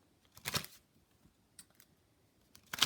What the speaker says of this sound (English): Kipper deck, just give me 1 second to shuffle.